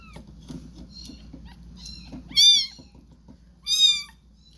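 Young kittens give high, thin meows during bottle feeding, with two louder cries standing out above soft suckling and handling noises close by.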